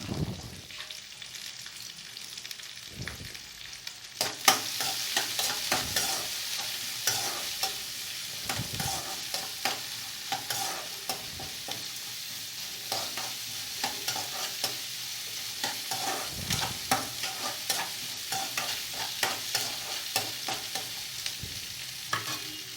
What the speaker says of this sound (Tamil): போட்டு நல்லா செந்நிறமாக வதக்கிடணும்